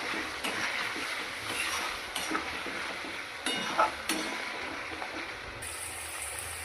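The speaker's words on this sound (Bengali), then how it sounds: "এবার মশলাটা আমি ভালো করে কষিয়ে নেব সামান্য একটু জল দিয়ে" Spice paste of ginger, cumin and chili fries in a pan with a little water, a soft continuous sizzle under repeated scraping and stirring strokes, with occasional clinks of utensil against the pan.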